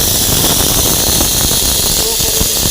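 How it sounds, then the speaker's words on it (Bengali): A kitchen mixer grinder pulverises raw atap rice into powder, giving a loud, steady whirring roar with a dense grinding hiss that runs unbroken and alone throughout. "এখন আমি মিক্সিতে গুঁড়া করে নেব"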